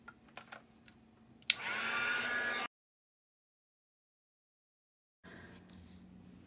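A hair dryer drying watercolor paint on a gift card blows in a steady close whoosh for about a second, then cuts off into silence before quiet handling sounds return.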